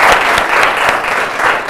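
A studio audience at a quiz show claps steadily for a correct answer, a dense, lively round of applause filling the brief moment with no talking.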